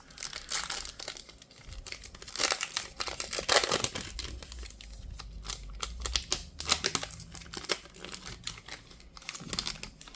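A Topps or Panini football card pack wrapper is torn open and crinkled in bursts of crisp, close-up crackling with short pauses in between.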